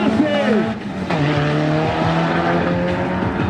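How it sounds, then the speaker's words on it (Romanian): A twin-engine Skoda Octavia 2 RS drag car accelerates hard at a drag strip, its engines revving steadily as they rise through the gears, loud and close, with a commentator talking excitedly over it. "Uitiți-vă cât de bine sunt sincronizate motoarele alea să accelereze în același timp și o schimbe treptele de viteză"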